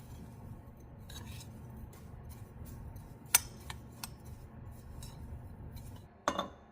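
A utensil stirs casserole topping with bacon fat in a bowl, a soft continuous scraping and shuffling broken by a few bright clinks of metal against the bowl, close and fairly quiet.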